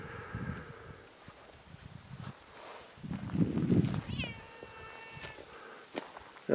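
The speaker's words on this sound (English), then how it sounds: "the first darn kitty cat that I've seen in Bolivia" A cat meows outdoors at a small lodging beneath the mountains of Sajama, Bolivia, a few soft, close mewing calls over rustling and low background noise, with faint human sounds nearby.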